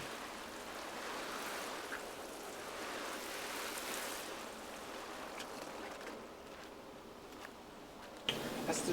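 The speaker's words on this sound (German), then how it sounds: "mit dem Gießen von Gurken." Water streams steadily from a garden hose or watering can onto cucumber plants, a soft continuous splashing hiss heard close with no talk.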